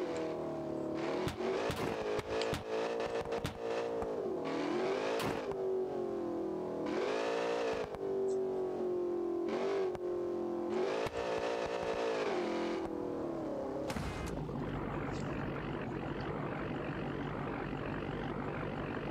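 A Hellcat Hemi V8 swapped into a 2023 BMW X6M in BeamNG.drive revs repeatedly, rising and falling in steady loud pulls, then settles into a rougher broadband roar near the end, with no talking.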